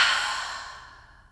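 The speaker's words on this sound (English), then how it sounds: "So inhale through the nose and exhale through the mouth." A single deep exhale pushed out through the mouth during a yoga breathing exercise, a soft breathy rush that starts close and clear and fades away over about a second.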